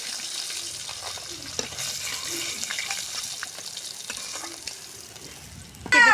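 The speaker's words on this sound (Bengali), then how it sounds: "দেখুন সুন্দর করে আমরা পেঁয়াজটা ভাজে নিচ্ছি।" Chopped onion frying in oil left over from frying fish, a soft continuous sizzle with light stirring scrapes and clinks, followed at the end by a brief louder burst.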